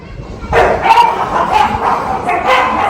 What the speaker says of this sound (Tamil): நாய் சண்டை போடுது